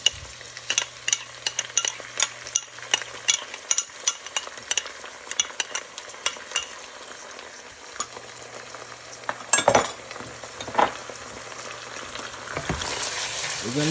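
Black garlic paste goes into a pot of bread soup with chicken as it cooks: steady stirring and scraping over a continuous sizzle, with sharper clinks of a utensil against the pot toward the end.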